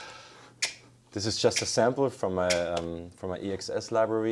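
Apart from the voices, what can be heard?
finger snap sample from an EXS library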